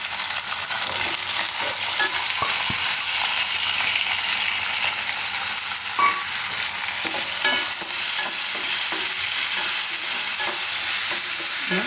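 Soaked moong dal frying and stirred in a pan with green chilies and curry leaves, a steady close sizzle with faint scraping from the spoon, no talk.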